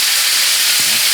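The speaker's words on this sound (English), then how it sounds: "Why is it putting pork, bacon, grease on the steak to sear it?" Steak sears in hot pork bacon grease, giving a loud, continuous hiss and sizzle close up, with no talking.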